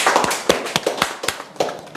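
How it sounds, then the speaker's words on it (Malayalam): A classroom of people applauds in a short burst of sharp, uneven hand claps, fairly close and dry, lasting about two seconds. "നല്ലൊരു ക്ലാപ്പ് കൊടുക്കും"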